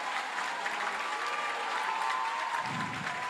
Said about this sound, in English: Crowd is going hysterical.